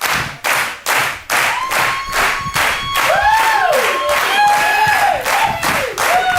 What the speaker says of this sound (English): If everybody can help us out and just clap like this. Get a little beat going.